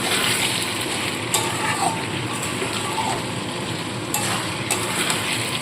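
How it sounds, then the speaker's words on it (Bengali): Chilli soya chunks being stirred in a frying pan, a steady broadband sizzle with scraping and occasional sharper clinks of the spoon against the pan, close and continuous. "আবারও একবার ভালো করে নাড়াচাড়া করে নেব।"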